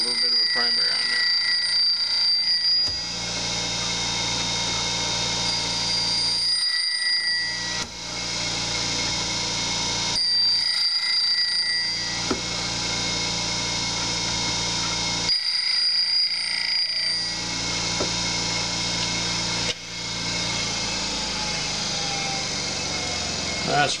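A Cuttermaster grinder plunge-grinds the primary bevel on a knife, giving a steady high whine and grinding hiss in repeated passes broken by short pauses, close and loud.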